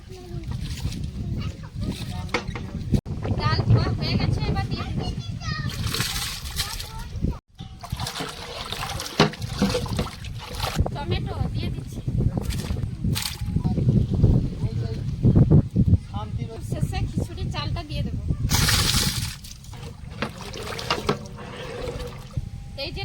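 Chana, moong and masoor dal are washed together in water, with repeated sloshing, splashing and trickling of grains being rubbed and rinsed by hand, close up, while someone talks over the sound.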